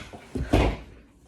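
A door being pushed open by a lion, a short close burst of creaking and thudding knocks that builds over about a second and then fades.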